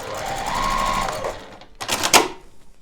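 A sewing machine stitches quilt-as-you-go panels to batting in a steady whirring stitch for about a second, then stops, followed by a few clicks and a sharp snip-like clatter from its built-in thread cutter.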